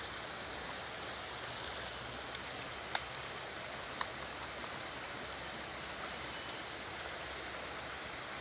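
A small river stream stocked with tens of thousands of masir fish flows in a steady, soft broadband rush, alone and fairly faint, with a couple of brief sharp clicks.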